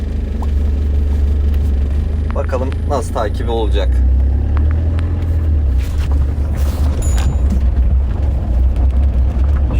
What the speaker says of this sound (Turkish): Arabayı çalıştırıp devam ediyoruz.